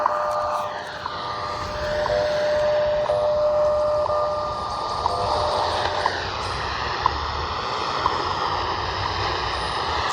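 Shortwave radio, an XHDATA receiver with its antenna fully extended, tuned to the 10,000 kHz time station out of Boulder, Colorado, gives a steady wash of static with faint tones and periodic ticks, with possible interference from nearby power lines.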